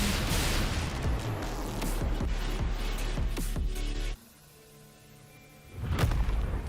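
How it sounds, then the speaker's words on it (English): Heavy explosion rumble in the video game Wuthering Waves: a dense roaring, crackling blast runs for about four seconds, cuts to a brief quiet stretch, then a second deep boom swells in. "What caused the explosion?"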